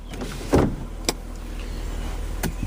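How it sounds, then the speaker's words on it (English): The sunroof of a 1992 Mercedes-Benz 300E pops open with a short mechanical clunk, followed by a few small clicks over a quiet, low background hum. "Let's go ahead and pop the sunroof"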